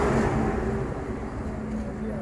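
Highway traffic passing by, with a rumbling engine and road noise that swells and fades beside a roadway divider while a person talks over it.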